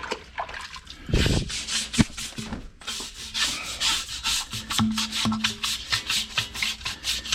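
A cloth wiping brake dust from factory Ferodo brake pads off a car wheel rim, heard as repeated scrubbing and rubbing strokes, close and uneven in rhythm, with a few sharper knocks.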